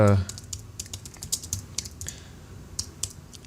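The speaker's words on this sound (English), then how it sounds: "just go to the search field and type something like" Computer keyboard keys clatter in quick irregular bursts as a search term is typed, close and moderately loud, with no talk over it.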